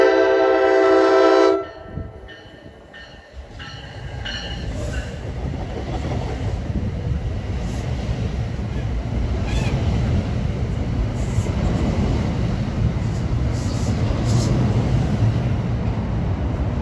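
An Amtrak Acela high-speed train at New Brunswick, New Jersey sounds its horn in a loud, sustained blast, then roars past at speed with a dense, continuous rushing rumble that holds steady for many seconds.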